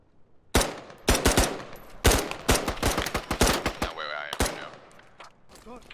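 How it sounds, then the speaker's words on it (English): Rapid bursts of M16 and AK rifle fire from the tactical shooter game Squad, loud and close, with sharp repeated shots in clusters and a brief mechanical whine partway through. "the M16 and the AK definitely have different audio attached"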